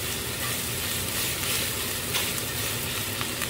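Vegetables sautéing in a pan with Italian herb seasoning while being stirred: a dense, even sizzle that holds at a constant level for the whole stretch, with no voices.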